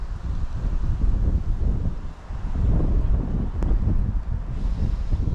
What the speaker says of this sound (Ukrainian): Досить вітряна погода